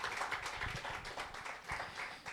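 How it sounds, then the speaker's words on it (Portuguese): A church congregation applauding during worship, dense rapid clapping from many hands that carries on steadily through the whole short stretch. "aplauda o Senhor em nome de Jesus"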